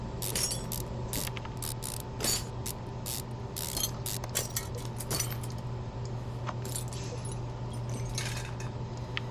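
Car parts are unscrewed in the game Car Mechanic Simulator 2015: a fast run of metallic ratcheting clicks and clinks over a steady low hum, with no voice.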